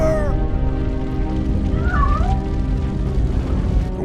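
A cat meows once, clearly, in the game RoboCop: Rogue City, rising over a steady wash of rain-like ambient noise.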